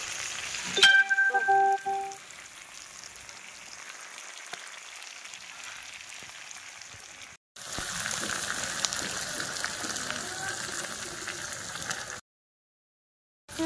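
Red meat curry frying in a pan during the stage where it is cooked down dry, a steady close sizzle with a louder burst of stirring at the start, continuing after a brief cut, with no talking.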